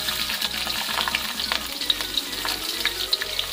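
Whole spices fry in hot oil for a mutton potato curry, giving a continuous close sizzle with crackling pops and occasional stirring scrapes.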